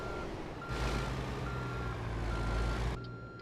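A semi truck pulling a trailer in American Truck Simulator sounds steady reversing beeps over a loud rumbling diesel engine, with a hiss of air near the end.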